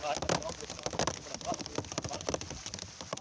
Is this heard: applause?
no